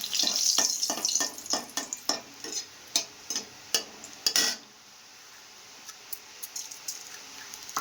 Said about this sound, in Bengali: এরপরে ওই তেলে দিয়ে দেবো শুকনো লঙ্কা আর পাঁচফোড়ন